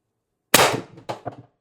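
A single sharp shot from an Umarex TR50 air rifle fed by a tether line from a 48 cubic inch tank with an adjustable regulator, a loud close crack followed by a couple of quick mechanical clanks as it settles.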